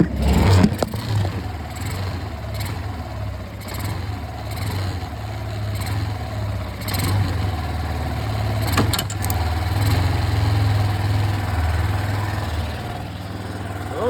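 A small engine fitted with a Chinese carburetor idles steadily, close and loud, with an even rumbling drone and a few brief clattering knocks.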